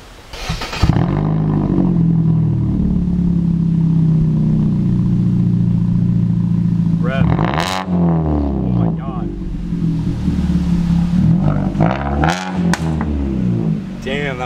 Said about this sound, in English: Damn, that backfire though.